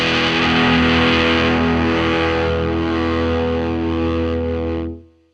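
An electric guitar runs through a BAM Pedals Goddess overdrive with compression, a distorted, saturated chord ringing out thick and sustained, slowly thinning before it is cut off sharply.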